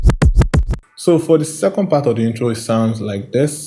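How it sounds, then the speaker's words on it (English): Rapid DJ scratches in a music production, four sharp back-and-forth scratch bursts in quick succession, followed by someone talking. "DJ scratch right there. This is what it sounds like."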